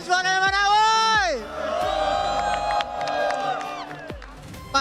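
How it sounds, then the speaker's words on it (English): Loud crowd cheering and whooping at the M7 World Championship esports event, sustained roaring with shouts rising and falling across the whole stretch, plus a few sharp bursts. "We want to hear you cheer."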